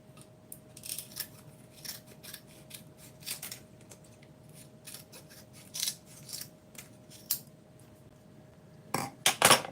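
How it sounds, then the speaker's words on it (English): Scissors snip repeatedly at thin resin flashing on a model airplane part, giving sharp, irregular crisp cuts over a quiet room hum, with a cluster of louder snips at the end. "I go through here and cut this extra resin off"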